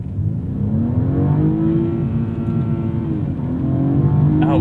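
A 2018 BMW 230i engine pulls hard under acceleration, a steady, rising drone that climbs in pitch with only a slight dip midway. It is loud and continuous, with no one talking.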